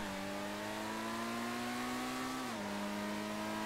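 A Benefactor Krieger supercar in GTA 5 Online holds a steady, loud engine drone as it accelerates toward top speed, with a pitch dip like a gear shift about two and a half seconds in.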